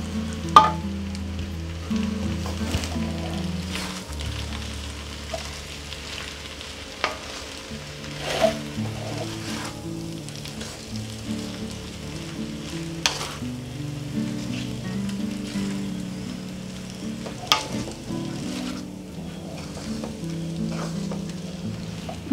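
Hakka noodles tossed with roasted garlic in a sizzling pan, a continuous close frying hiss with repeated scraping and clacking toss strokes throughout.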